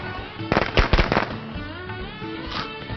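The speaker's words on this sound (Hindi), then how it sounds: "अनार वाले पटाखे के क्या कहने" Anar fountain firecrackers go off during Diwali celebrations, with a cluster of loud crackling bursts early on that settles into a lower hissing fizz, and another faint flare near the end.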